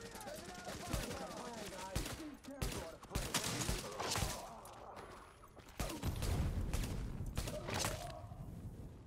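Gunfire in The Division video game: bursts of automatic rifle and sniper shots crack out in irregular clusters, with someone talking over part of the firing.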